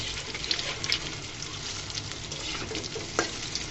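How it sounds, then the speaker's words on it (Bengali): Bread and egg snack frying in a pan, giving a steady close sizzle with soft stirring scrapes throughout and no talking. "এগুলোকে আমি সুন্দর করে ভেজে নিচ্ছি।"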